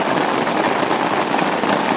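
Steady rain falling on a woodland camp, a continuous dense hiss of drops striking surfaces nearby, even and unbroken with no voices.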